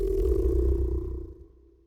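A rubber dog toy cover squeezed to make a monster's vocalization gives a low, droning, throaty moan, loud at first and then fading steadily over two seconds, with no talking.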